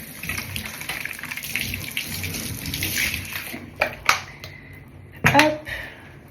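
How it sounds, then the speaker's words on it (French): Water runs steadily while hair is rinsed, a soft close hiss with a few louder splashes near the end. "Et là, je vais rincer tout de suite."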